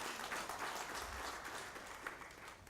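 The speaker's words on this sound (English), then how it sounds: "one more big round of applause for the Ghana Dance Company." Audience applause for a dance company at a football tournament draw ceremony in Ghana, a faint, steady wash of many hands clapping heard from a distance.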